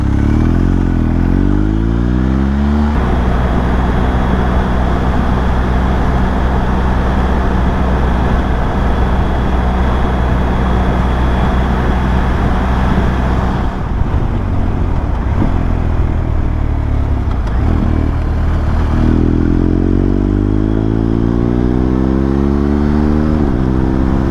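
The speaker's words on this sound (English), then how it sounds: "Oh, this bike is so well balanced." Motorcycle riding sound, a loud steady engine drone with rising and falling pitch as the bike accelerates, shifts and eases off, continuous and close throughout with no talk.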